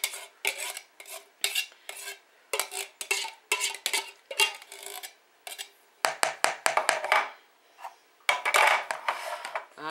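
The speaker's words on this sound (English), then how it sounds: "And get my spoon," A spoon scrapes crushed tomatoes out of a metal can in rapid, rhythmic strokes. The scraping is close and clear, with each stroke a short rasp against the tin, and it speeds up partway through.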